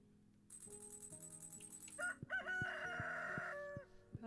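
A rooster crows in the farming game Stardew Valley, one drawn-out cock-a-doodle-doo over soft game music, followed by a few short clucking notes.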